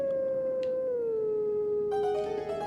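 A wolf in the video game Twilight Princess howls a three-note song: one loud, sustained tonal howl that slides down in pitch, with brief game chimes near the end.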